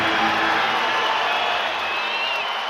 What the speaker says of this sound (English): You can hear the cheering of the crowd, drowning us out.